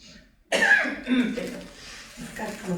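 A sudden harsh cough erupts after a brief quiet, followed by more rough coughing and throat-clearing that trails on for a couple of seconds.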